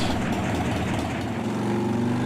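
A cold S&S-equipped motorcycle V-twin with a TC3 oil pump idles steadily nearby, a continuous low rumbling throb with no talking.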